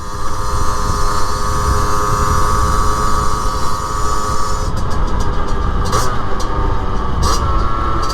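A 2023 Rieju Trophy MRT50 two-stroke motorcycle engine runs steadily and loud, with a dense continuous drone throughout and a few sharp clicks or pops toward the end.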